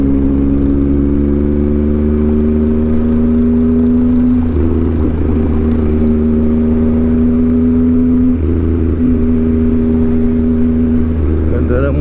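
Motorcycle engine droning steadily during a ride through a festival, its harmonic pitch holding and shifting slightly as it travels, loud and continuous with background noise and occasional voices.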